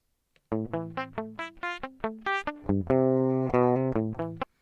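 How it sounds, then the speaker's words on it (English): Clean, dry electric guitar playing a plucked riff of distinct single notes and brief chords, bright and undistorted, with no other sounds. "There's no effects, it's just guitar straight into the computer."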